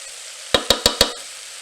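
Butternut squash and ginger going into a hot Instant Pot for a sauté, heard as four quick, evenly spaced clattering knocks from a spoon or pieces against the pot, with no talk.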